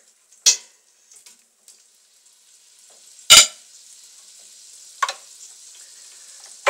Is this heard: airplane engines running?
no